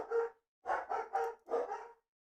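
Several dogs bark indoors in a series of five quick, fairly faint barks, with short gaps between them and no talking.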